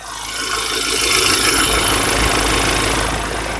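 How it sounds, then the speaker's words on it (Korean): A Ford Ranger Raptor's 2.0-litre diesel engine idles loudly and evenly up close with the bonnet open, a smooth continuous rumble with a faint rattling clatter and no break in rhythm. "2000cc 경유 엔진인데 엔진 소리 너무 정숙하고요"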